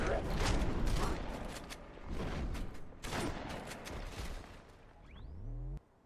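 The Hunter's cannon fires in the Halo 2 video game, with several loud roaring blasts spaced a second or so apart, then a rising whine and a fading mechanical tail.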